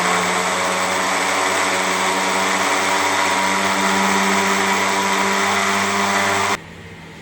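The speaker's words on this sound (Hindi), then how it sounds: "इसे करेंगे अच्छे से ग्राइंड, और यमी और टेस्टी जूस बनने वाला है।" An electric blender grinds apple pieces with water for juice, a loud, steady, close whirring drone that runs without a break and then cuts off abruptly near the end.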